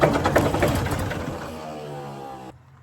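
Ford 4000 tractor engine, previously seized, cranking and catching with a loud, rough, uneven mechanical clatter that settles into a steadier running tone before cutting off abruptly.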